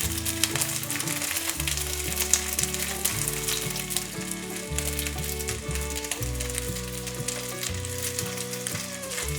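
Flipped gluten sausage pieces fry on in a pan with a little oil, giving a continuous close sizzle and crackle under background music, with no voices.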